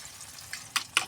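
Tomatoes frying in a pan for a crumbled egg dish, a soft steady sizzle with a couple of sharper crackling pops near the end.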